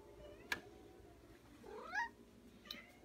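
Cats meow while waiting to be fed in a quiet home, with a few separate meows spread out, one rising call in the middle, all fairly near but soft.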